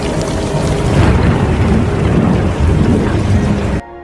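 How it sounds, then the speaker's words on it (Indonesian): A torrential downpour roars continuously, loud and close, with low rumbling thunder layered underneath, before the storm cuts off abruptly near the end. "tiba-tiba hujan turun dengan sangat deras"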